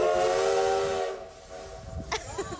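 A tourist train's steam whistle blows loudly and close as a sustained, chord-like tone for about a second, then cuts off, leaving hissing steam and rumbling noise.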